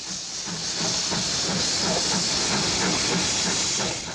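Loud, continuous hissing of steam vents from a British steam locomotive close by, with a faint rhythmic chuffing pulse running underneath and no speech.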